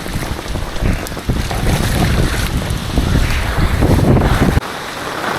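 Strong wind buffets the microphone beside a fast-flowing canal near Bagdha bazar, a loud continuous roar of rushing water and gusts that drops off sharply near the end.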